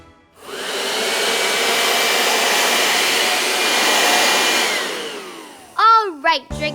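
A person's voice imitates a vacuum cleaner with a loud, sustained breathy roar and hiss lasting several seconds. It then breaks into short voiced squeals and laughter at the end.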